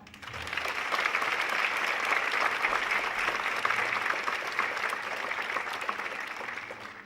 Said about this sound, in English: Can we all please give a round of applause for the senior class for making it this far?